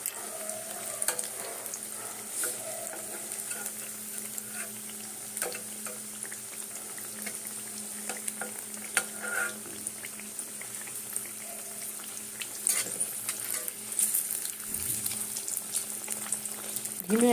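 Thick vegetable pakoras frying on a low flame, with a continuous soft bubbling sizzle of oil and occasional light clinks and stirring, fairly quiet and close with no speech.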